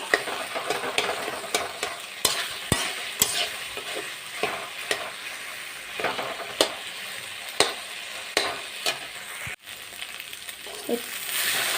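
Boiled potatoes being stirred and mashed in a cooking pot during a pigeon meat curry, with repeated scraping and tapping strokes against the pot over a low steady background.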